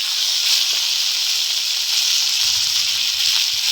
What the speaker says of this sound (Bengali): চিংড়ি মাছটা একটু হালকা করে ভেজে নেব।